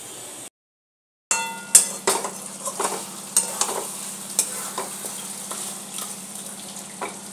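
Goat meat (khasir mangsho) being sautéed in a pan, with a steady sizzle after a brief silence, broken by repeated scraping clinks of a spatula stirring and a low hum underneath.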